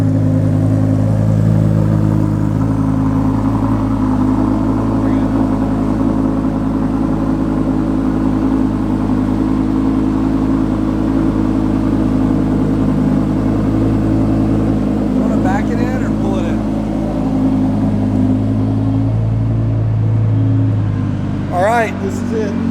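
A Lamborghini driven into a garage gives off a loud, close, steady engine rumble that holds a deep, even drone throughout, with only slight changes near the end.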